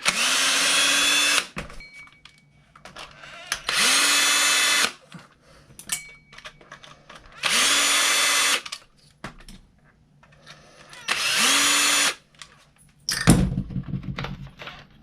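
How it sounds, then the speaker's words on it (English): Power drill backing screws out of a Traxxas Maxx RC truck, four separate steady whirring runs of a couple of seconds each, close and loud, with faint handling noises and a sharp knock between them. "Got a few screws to take out here."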